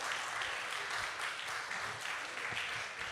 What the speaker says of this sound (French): Allez, on tient les applaudissements.